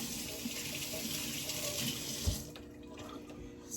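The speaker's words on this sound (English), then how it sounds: "So I got my hands rinsed" Tap water runs steadily into a kitchen sink while hands are rinsed, a soft continuous splashing that cuts off near the end, leaving a quiet room.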